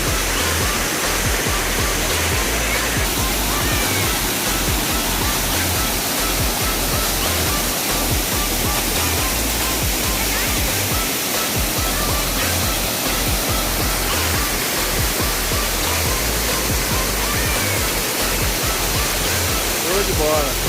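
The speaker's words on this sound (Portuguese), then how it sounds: "aqui na Cachoeira do Amor." Cachoeira do Amor waterfall in Tijuca, Rio de Janeiro, a constant dense roar of falling water filling the whole span, close and loud, with a voice faintly present underneath.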